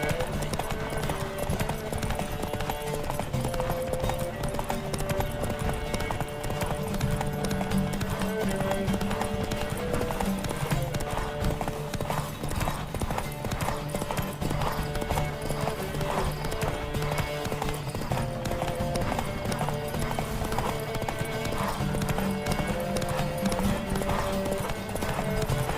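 Rhythmic clip-clop of horse hooves galloping in The Witcher 3 during a horse race, steady and continuous, with an occasional whinny, music and game sounds layered underneath.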